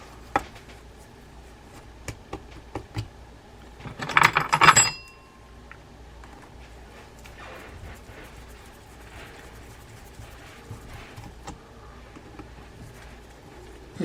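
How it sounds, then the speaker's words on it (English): Metal clicking and a brief burst of ratcheting as pliers grip the shaft while the drag adjuster is tightened on a Daiwa Procaster mini PM100 baitcasting reel during servicing, close and fairly loud against a quiet background. "Just using this pliers to hold the shaft as I tighten down on the adjuster."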